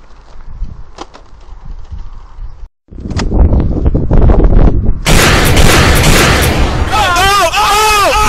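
Video game gunfire from a shooter, rapid shots and blasts building to a dense, loud barrage under the game's score, with a brief silent gap before the firing intensifies.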